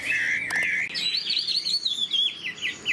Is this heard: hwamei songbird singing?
yes